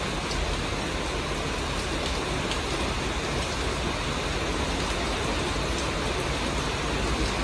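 Heavy rain pours steadily in Củ Chi, a dense, loud, unbroken hiss of falling water with no voices.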